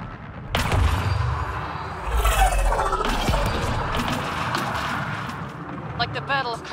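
Heavy gunfire and artillery blasts erupt in a Mass Effect Andromeda battle, with booming impacts and crackling bursts stacked under shouted voices and loud effects throughout.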